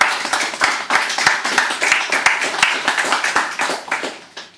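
An audience applauds after a singer's first set, a close, dense burst of clapping with distinct sharp hand claps throughout.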